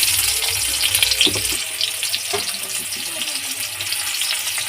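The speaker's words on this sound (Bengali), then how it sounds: "মাছ পেঁয়াজটা ভাজা ভাজা হয়ে এসছে" Onions frying in hot oil in a wok after spices are tempered for a tilapia curry, a loud continuous sizzle with a few stirring knocks near the start.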